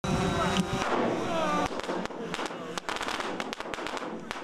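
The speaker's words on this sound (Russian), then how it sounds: "залпы огня, взрывы и дымовая завеса" Explosions and bursts of fire set off along a military-sport obstacle course, a run of sharp cracks and booms that starts after a loud rumbling stretch and keeps popping irregularly, close and loud.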